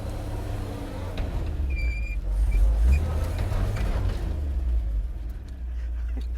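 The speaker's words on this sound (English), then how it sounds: "Brakes are definitely locked up, Yeah. but it is moving." A 1953 Chevy truck with locked-up brakes creeps in reverse, a heavy low engine rumble that swells in the middle with faint squeals and scraping, close and steady.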